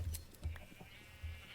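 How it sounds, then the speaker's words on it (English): Sheep bleat in a video game pen, a few short, nasal calls spaced irregularly over a soft background, fairly close. "Sheep."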